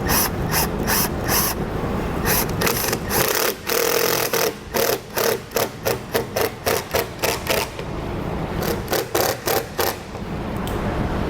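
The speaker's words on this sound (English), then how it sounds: "when we drive this screw into the wall, it's going to grab on" A power driver sinks screws through butyl tape into the wall of a 2021 Grand Design Reflection fifth wheel RV during a slide-out awning install. It gives repeated close, rapid ratcheting bursts separated by short pauses.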